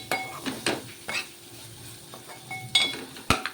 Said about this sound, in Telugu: సిమ్లో పెట్టి ఉడికిస్తున్నాండి మసాలా నూనెలో బాగా వేగాలి